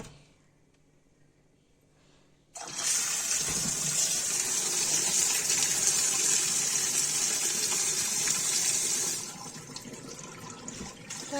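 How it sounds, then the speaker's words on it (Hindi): Boiled cauliflower is rinsed under cold running water in a strainer, a loud steady gush of tap water lasting several seconds after a quiet start, then easing off. "अब इसको ठंडे पानी में धो देंगे गाइस।"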